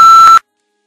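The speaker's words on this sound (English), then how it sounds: "just leave your message at the beep" An answering machine gives a single short electronic beep, a steady, clear tone lasting under half a second that cuts off into silence.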